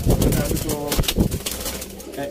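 Sialkoti Ali wala pigeons coo in low, throaty bursts nearby, mixed with someone talking over them.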